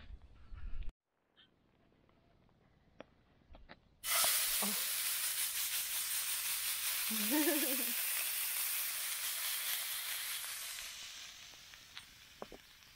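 Burger patty frying in a pan over a campfire in the taiga, starting with faint handling sounds, then a sudden loud, steady sizzle and hiss that slowly fades, with a few clinks and brief noises.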